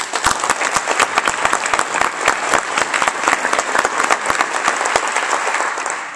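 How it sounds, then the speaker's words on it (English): A large audience applauds after a graduation speech, loud sustained clapping from many hands with sharp individual claps standing out, steady throughout and fading slightly at the very end. "Let's give them another round of applause."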